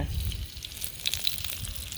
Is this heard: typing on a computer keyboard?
no